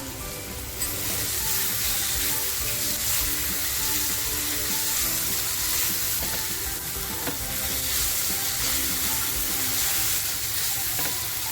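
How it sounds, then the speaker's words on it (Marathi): Onion and garlic sizzle steadily in a hot pan for a dhaba-style tandoori chicken tikka masala, a continuous close frying hiss with occasional stirring scrapes and no talk. "मग आपल्याला कांदा लसूण आहे ना ती छान खमंग परतवून घ्यायची"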